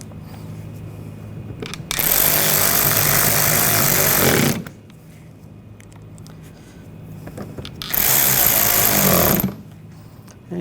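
Power tool driving screws into the engine splash shield trim of a 2014-2020 Nissan Rogue, two loud sustained bursts of buzzing whir separated by a quieter pause, close by with no talking.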